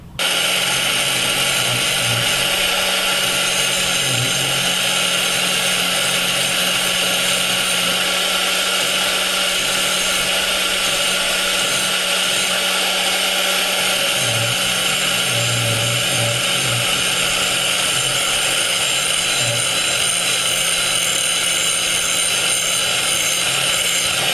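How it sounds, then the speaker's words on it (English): An angle grinder grinds a new tip shape into a forged steel dagger blank. A loud, steady high whine with a rough grinding hiss runs without a break for the whole stretch. "grind that out with an angle grinder"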